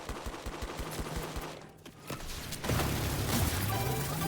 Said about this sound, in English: And that shot there was kind of a waste on my part with the RPG